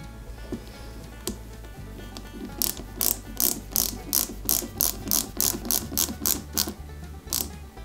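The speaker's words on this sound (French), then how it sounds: "Et maintenant, on fixe l'ensemble avec 4 vis." Four flat-head screws are driven into an Eaglemoss Ecto-1 model kit, making a run of close, rhythmic ratcheting clicks that quicken into regular bursts over a low background hum.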